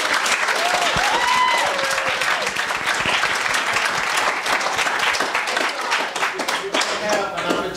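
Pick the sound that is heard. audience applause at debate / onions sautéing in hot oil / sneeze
audience applause at debate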